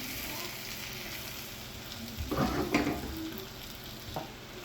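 Spice powder frying in oil for a squid curry, a low constant sizzle with a louder burst of stirring and scraping in the middle and one more brief scrape near the end.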